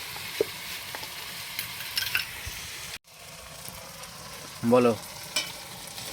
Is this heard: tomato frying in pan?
yes